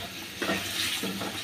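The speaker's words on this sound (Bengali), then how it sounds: "কুচানো আলুগুলো দিয়ে দেব। এবারে এগুলো একটু 2-3 মিনিট মশলার উপরে কষিয়ে নেব।" Chopped potatoes fry with spices in a pan for a bottle gourd and bean seed bhaji, giving a close, steady sizzle broken by a few soft stirring scrapes.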